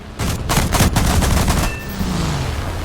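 Cannons on a Dornier Do 335 A-0 fighter firing at a P-38 in a flight combat game, a rapid, loud burst of booming shots lasting about a second and a half, then a lingering engine drone.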